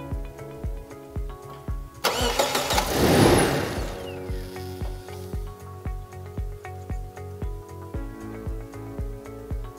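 A Toyota Hilux engine cranks and catches with a sudden loud burst, runs briefly, then cuts off, while a steady rhythmic mechanical pulsing continues throughout, close up with no talk.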